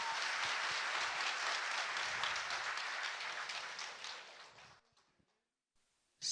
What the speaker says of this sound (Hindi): जितने भी लोग बैठे हैं सबको अपने स्पॉन्सर के लिए एक जोरदार ताली होना चाहिए